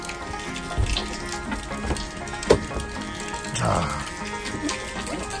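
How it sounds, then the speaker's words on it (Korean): Heavy rain falls steadily around a Renault Twizy microcar, a dense, even hiss of water that continues throughout, with a few scattered patters and a short spoken word. "이렇게 지금 비가 꽤 많이 오고 있습니다."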